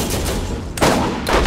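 Two loud sniper rifle shots fired in the video game Borderlands, each a sharp broadband crack, spaced about half a second apart over a busy game background with no talking.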